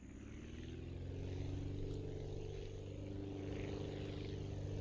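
An aircraft propeller engine in the flight-building game Aviassembly throttles up, giving a steady droning hum with a layered tonal whine that rises slightly and then holds, continuous and fairly loud with no talk.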